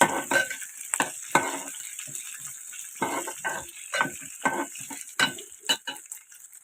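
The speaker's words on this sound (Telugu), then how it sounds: "ఇప్పుడు నువ్వు ఈ నువ్వులు అనేవి వేగిపోయాయండి మొత్తం వేగిపోయాయి" Sesame seeds toasting in a hot pan, a dense crackle of sharp popping bursts that rise and fall unevenly throughout, close and fairly loud with no talking.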